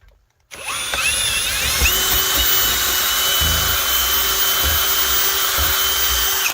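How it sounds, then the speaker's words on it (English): A power drill whines steadily and loudly after a short silence, running continuously at high speed with slight shifts in pitch as it bites in, drilling a pilot hole through a ceiling for a bathroom exhaust fan vent. "Gonna drill a pilot hole so we know where to put our vent."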